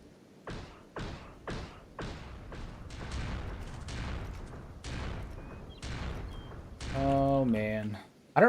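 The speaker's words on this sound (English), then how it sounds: "I don't know what the rifle they're shooting is, but dude, it sounds like a hand cannon when they fire it" Rifles fire in the Kenshi video game, a regular series of heavy, booming shots with sharp attacks and decaying tails. Someone talks afterward.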